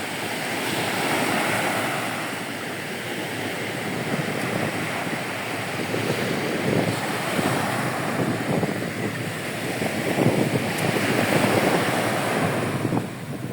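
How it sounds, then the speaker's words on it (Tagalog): Ocean waves rush and wash steadily onto an island shore at Sipalay City, Philippines, a broad continuous roar with swells rising and falling, mixed with wind buffeting the microphone. "ang ingay lang ng alon"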